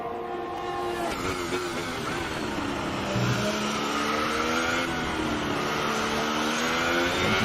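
A race car in a racing video game screams at high revs along a curbed exit, engine pitch climbing and dipping with a skid-like wobble as the rear end slides loose, loud and steady throughout.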